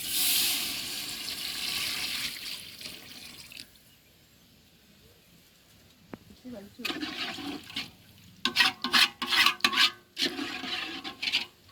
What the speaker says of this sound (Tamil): தேவையான அளவு தண்ணி ஊற்றிட்டு நல்லா கலந்து விட்டுருவோம்